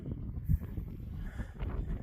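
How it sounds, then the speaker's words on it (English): Low, gusty wind buffets the microphone in soft, uneven rumbles, fairly quiet and continuous with no other clear sounds. "it's getting a little bit windy"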